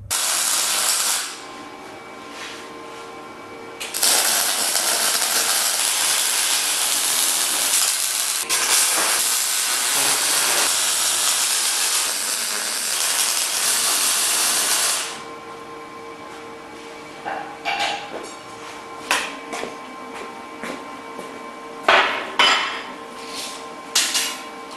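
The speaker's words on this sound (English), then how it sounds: "Let's skip to the welding." Welding on a steel trailer frame for a 4x8 trailer rebuild: a loud, steady hiss-crackle of the arc running in long continuous passes, then stopping, followed by a few separate metallic knocks and clanks.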